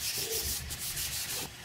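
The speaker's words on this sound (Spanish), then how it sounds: "Puedo pasarle mi lija de agua." Hand sanding of wood already coated with two layers of sealer using wet sandpaper, a close, quiet raspy rubbing in several quick back-and-forth strokes.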